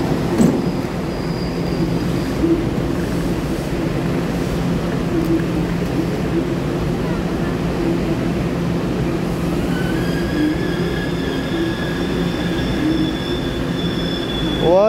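A TEMU1000 Taroko Tze-Chiang express, cars TEMU1011 and TEMU1012, running as extra train 5219 from Hualien on the North-link line, rumbles past close by with a steady roar and a rising wheel squeal near the end.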